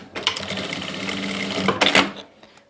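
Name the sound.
sewing machine stitching a garment seam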